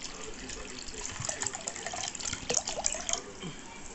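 Water pours into a cooking pot holding washed lentils, a steady close splashing and trickling that rises in spots, with no talk over it.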